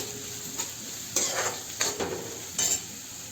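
Chopped onions frying in oil in a pan, a soft steady sizzle broken by three or four louder scraping stirs spaced about a second apart, close and alone with no talk.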